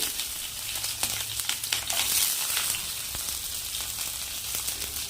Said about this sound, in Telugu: దీనిలో కొంచెం కరివేపాకు వేసి వేపి తర్వాత పచ్చిమిర్చి,